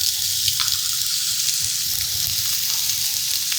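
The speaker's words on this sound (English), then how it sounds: "So I'm going to go ahead and put onions in this pan." Onions frying in a pan, a dense, even, close-up sizzle with faint stirring ticks and no voices over it.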